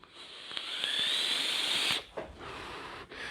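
A thin, steady airy whistle with hiss from a single-coil vape atomizer's airflow holds for about two seconds, then breaks off into shorter gusts of airflow.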